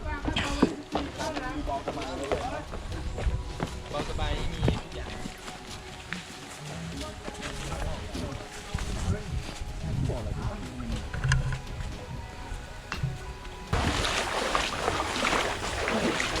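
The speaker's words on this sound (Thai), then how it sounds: "เดินลุยน้ำนะครับตอนนี้" Repeated sloshing and splashing as feet wade through water on a mountain trail in Thailand, close and irregular, with outdoor noise and occasional voices around it.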